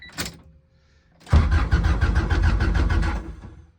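A Honda Civic EG engine cranking over on the starter, a short click and thump, a pause, then about two seconds of loud rhythmic cranking that cuts off without the engine catching.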